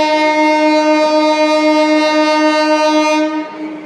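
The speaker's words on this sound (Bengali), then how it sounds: "এই ট্রেন ঢুকলে পরে ট্রেনে উঠে" Train sounding a long, loud, steady horn blast at Baidyanath Dham station, the sustained harmonic tone holding for about three seconds before cutting off into fading rail rumble.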